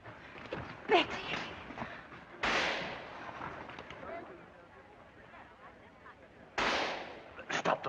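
Gunfire from a film battle scene, with a few sharp broadband shots at the start and then heavy bursts around the third and seventh seconds, heard above a low background rumble and noise.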